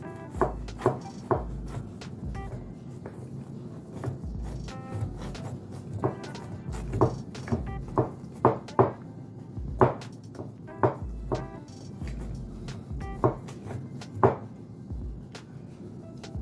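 Cream being churned into butter in a homemade wooden butter churn, with rhythmic knocking and sloshing thumps repeating every second or so, close by.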